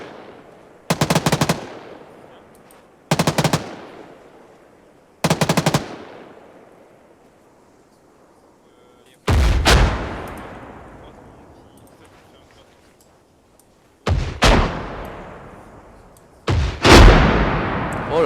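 MX rifle fire in the Arma 3 video game: short loud bursts of automatic gunfire separated by pauses of a few seconds, later shots booming heavier with long echoing tails rolling away.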